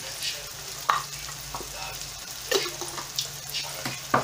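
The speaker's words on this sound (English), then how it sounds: "And now I'm going to add a couple of elach, which is cardamom" Cardamom pods tossed into a frying pan during beef bhuna cooking, with a steady close sizzle and occasional stirring scrapes and spits throughout.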